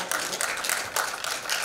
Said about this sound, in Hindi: हम उनका जोरदार तालियों के साथ स्वागत करना चाहेंगे